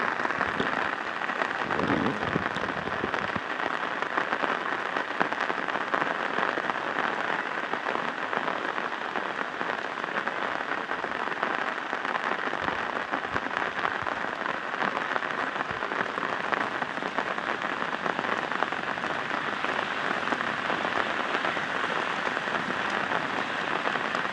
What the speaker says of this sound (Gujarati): આવો વરસાદ અમે અમારા ગામમાં ચોમાસામાં નથી આવ્યો એવો વરસાદ પડે છે તમે જુઓ